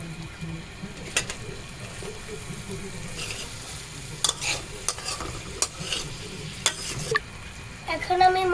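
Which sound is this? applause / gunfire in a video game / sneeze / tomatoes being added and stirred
tomatoes being added and stirred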